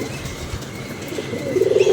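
Pigeons coo close by, a low throaty warble that swells louder toward the end, with faint rustling behind.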